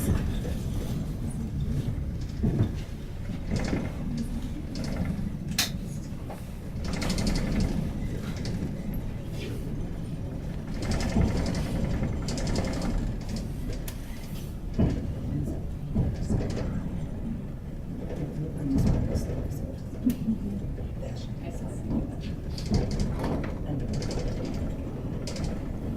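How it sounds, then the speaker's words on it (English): Steady low mechanical rumbling and rattling of the Sandia Peak Tramway car moving slowly as it docks, with occasional clunks and knocks, under intermittent talk. "as we come into dock, we shall be docking very slowly"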